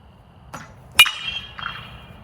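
A 44 Pro alloy BBCOR baseball bat strikes a ball in one sharp metallic ping with a ringing tone that fades, set between a couple of softer knocks and thuds in a quiet space.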